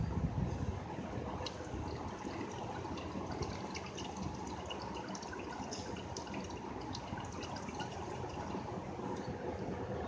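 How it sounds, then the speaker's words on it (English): Power steering fluid draining out of a car with a metal-contaminated power steering system, a steady unbroken splashing pour that runs the whole time at moderate level, with no voices. "so let's pour this all. Let this come out."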